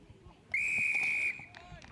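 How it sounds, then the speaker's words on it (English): A referee's whistle at a schools rugby festival match gives one sharp, loud blast lasting under a second, followed by faint crowd chatter and distant shouts. "wait for the whistle"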